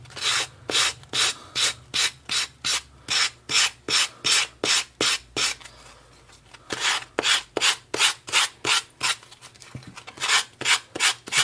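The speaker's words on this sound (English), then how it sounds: "So now I'm just going to sand off the edges as I normally would." Sandpaper works the edges of a napkin-decoupaged piece on a dark base coat in quick, regular back-and-forth strokes, roughly two per second, close and loud, with a short pause partway through.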